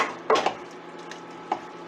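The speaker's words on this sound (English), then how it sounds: "I'm going to stir this up." A spoon scrapes and clinks against a pot of homemade chili with diced tomatoes, giving two or three brief, close stirring knocks over a quiet background.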